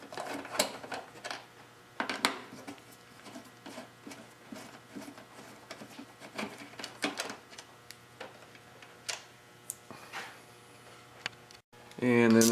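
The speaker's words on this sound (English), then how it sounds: "So first remove the two Allen bolts." Allen bolts are worked loose from the carburetors of a Honda Shadow motorcycle, heard as scattered close metallic ticks, scrapes and clicks of a hand tool, irregular and fairly quiet, with a louder rattle at the very end.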